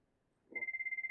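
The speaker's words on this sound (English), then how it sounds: "That phone can ring out." A telephone in a classroom starts ringing, with a short rapid electronic trill heard moderately loud after a soft thump.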